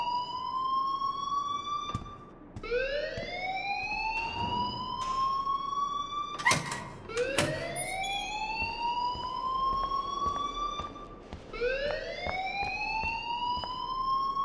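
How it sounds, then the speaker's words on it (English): Rising and falling electronic alarm wail in the Life is Strange video game, loud and repeating in long sweeping cycles with brief gaps, a short sharp clatter partway through, no talk. "please turn off that alarm since that's your job"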